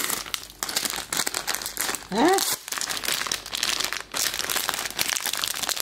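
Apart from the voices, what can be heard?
crinkling plastic wrapper of Lego Ninjago surprise bag being opened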